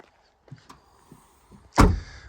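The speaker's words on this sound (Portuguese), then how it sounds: "deixa eu fechar o porta-malas que eu esqueci aberto" A few faint clicks and shuffles, then a single solid thump as a Volkswagen Polo TSI's boot lid shuts, followed by a brief low rumble.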